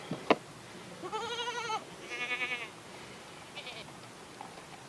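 Two wavering bleats from a goat, one after the other, fairly close, followed by a fainter short call, with quiet outdoor background and no talking.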